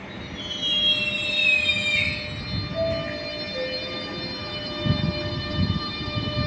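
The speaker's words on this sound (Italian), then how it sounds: "Il treno regionale 10424 di Trenitalia delle ore 16:46 per Treviso Centrale via Castelfranco è in partenza dal binario 7" A Trenitalia regional train pulls out of Padova station with a steady rumble of wheels and a high, drawn-out wheel squeal that rises and fades, with no voices.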